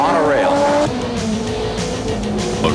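An Audi race car brakes late into a corner on a circuit, loud engine note dropping as tires squeal through the braking zone, continuous and close, with a commentator's voice talking over it.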